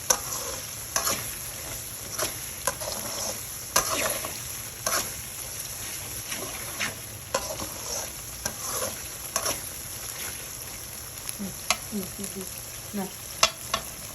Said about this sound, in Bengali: দেখুন এখন আমরা মাংসটা দিয়ে দেবো এখানে